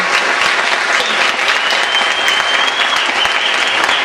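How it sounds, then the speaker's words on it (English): Loud, dense audience applause at a live event after presenters finish, steady and unbroken for the whole stretch, with a faint whistle rising through it. "Let's give a round of applause one more time for everybody that's presented so far."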